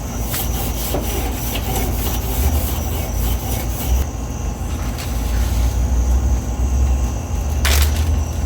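A wire brush scrubs the grill grates of a Weber kettle in steady back-and-forth strokes, close and loud, with a brief sharper scrape near the end and no talk.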